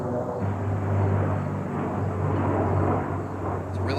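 A slow propeller airplane drones overhead in a rural outdoor setting, a steady low hum sustained throughout with no speech.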